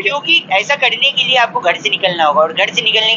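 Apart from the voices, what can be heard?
No everyday noise stands out behind the speech.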